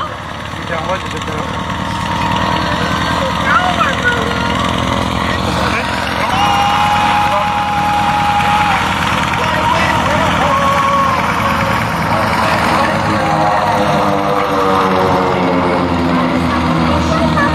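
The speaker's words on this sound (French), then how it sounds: "vous présenter leur TB30 Epsilon aujourd'hui dans le ciel de Dijon" A TB30 Epsilon propeller aircraft flies at the Dijon air show, a steady droning engine roar that holds loud throughout while an announcer talks over it.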